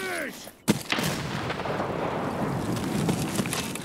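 A single loud, close gunshot cracks out in Escape from Tarkov on a city streets map, followed by a long, rumbling echo that rolls and lingers for several seconds.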